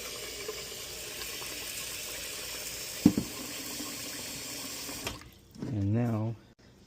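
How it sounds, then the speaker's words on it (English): Running water splashes steadily into a bowl of Sukoyaka Genmai brown rice under a brief spoken line, then stops; a short bubbling, rising fill follows near the end. "Then I rinse out the water."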